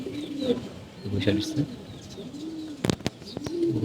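Pigeons coo repeatedly nearby in low, rolling calls, with a few sharp clatters like wings or knocks partway through.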